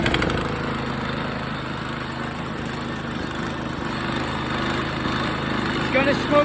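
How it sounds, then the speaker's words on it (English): A small pull-start engine, choked and fitted with a new spark plug after being tilted back, runs at a steady, even idle throughout, a continuous mid-pitched putter at moderate distance with no voices. "put the choke on, and let's give it a pull"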